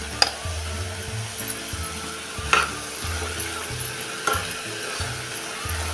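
Onion-garlic chutney sautéing in a pan: gentle continuous sizzle broken by a few sharp scraping and clinking strokes of a spoon against the pan, close by, with no talk.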